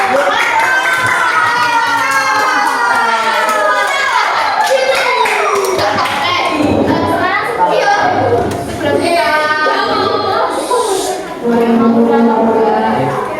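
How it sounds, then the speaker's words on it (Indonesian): Primary school classroom where children clap their hands, the clapping mixed with loud, lively children's voices and an adult talking over them, a busy, close and continuous din. "Tepuk tangan dulu"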